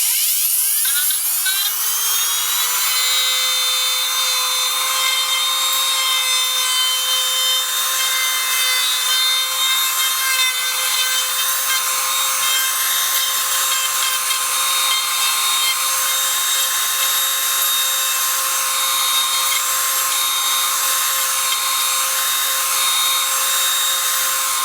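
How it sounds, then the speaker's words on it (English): A router cutting into a wood piece for a hinge recess spins up with a rising whine, then holds a loud, steady high-pitched scream, close and continuous for the full stretch with no talking. "now this will be a little bit noisy, but we're going to go ahead and route this piece"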